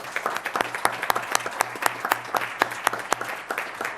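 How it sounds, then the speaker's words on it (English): A round of applause at a special school board meeting for Ms. Figueroa, a Hispanic teacher, with many hands clapping steadily close by, some sharp individual claps standing out, and a faint low hum beneath. "let's give her a big round of applause"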